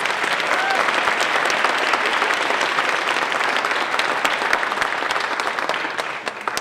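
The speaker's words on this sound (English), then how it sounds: "So let's give ourselves a round of applause." Sustained applause from a graduation and awards ceremony audience fills the whole stretch, dense and steady clapping from a large crowd at close range, tapering slightly near the end.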